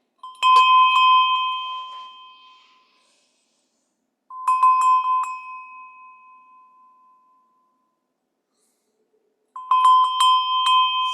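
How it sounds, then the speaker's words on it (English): Three bright metallic bell strikes ring out alone during a gentle yoga session, each one clear and close, sustaining and slowly fading into silence before the next, spaced about four to five seconds apart. "We're going to use a different bell to help release tension there"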